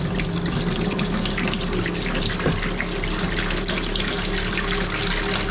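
Steady gush of water being pumped out of an overfull tank, a continuous close rushing and splashing flow with no pauses, heard alone.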